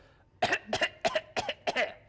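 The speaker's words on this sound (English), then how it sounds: "A cough in response" A man gives a string of five quick, dry coughs in a row as a mock signal, close and fairly soft, with no talk over them.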